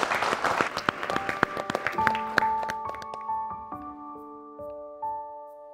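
Audience claps for a singer on a televised stage show, a brisk burst that fades quickly as sustained piano or keyboard tones ring out and take over.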